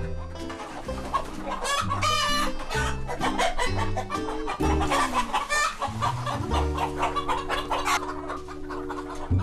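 Hens cluck busily and a rooster crows inside a chicken coop in a remote mountain village in Yeongdeok, South Korea; the steady, overlapping clucking carries on under background music.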